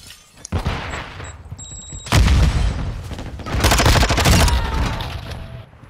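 Gunfire in a first-person shooter game: a single sharp shot, then heavy bursts of rapid fire and booming blasts in two loud waves separated by a short pause.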